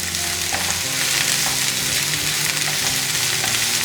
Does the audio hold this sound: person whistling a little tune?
no